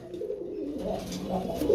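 Pigeon cooing at close range, a low continuous murmuring coo that runs through the whole short stretch with no other sound over it.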